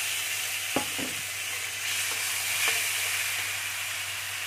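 Chopped tomatoes with turmeric fry in a pan, a steady loud sizzle and hiss with a few scraping stirs near the start and no voices.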